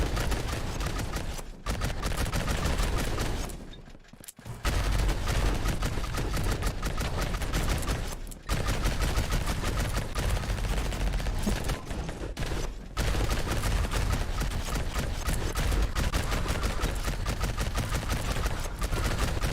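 Relentless machine-gun fire from the video game Vampire Hunters, a loud dense stream of rapid shots broken by a few short pauses, running for nearly twenty seconds.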